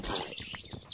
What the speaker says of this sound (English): These birds are getting louder and louder.